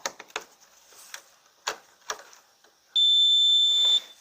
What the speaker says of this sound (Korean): 삐 울죠. 부저 소리도 나고요.